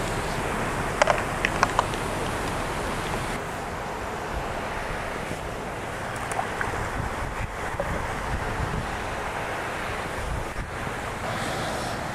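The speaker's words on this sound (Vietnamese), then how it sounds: "Gió nó thổi hơi mạnh, khó bắt nhịp phao" Strong wind blows across open water during a fishing trip on a cold day, a constant loud roar buffeting the microphone, with a few brief sharp clicks early on and no talk.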